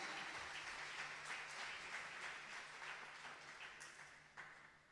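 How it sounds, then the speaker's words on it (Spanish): A church congregation claps together for the Lord, a dense, continuous wash of applause heard from a distance, fairly quiet and even, with no talking over it. "Dele fuerte aplauso al Señor que da la vida"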